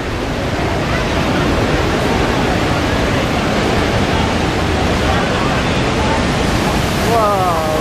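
Niagara Falls roars as a steady, loud broadband wash of falling water and spray, heard from a tour boat's open lower deck with wind buffeting the microphone.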